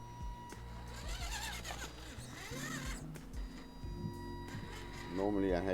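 An Axial AX10 RC rock crawler on a 3S LiPo battery runs slowly, its electric motor whining in short rising and falling bursts as the throttle changes, close and fairly quiet.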